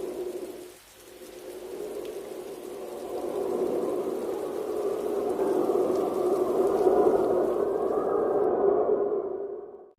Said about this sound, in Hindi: जंगल में तेज बारिशें शुरू हो जाती हैं।